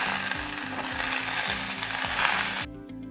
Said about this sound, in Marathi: आता हे कापलेले वांगे त्यात परतवून घेते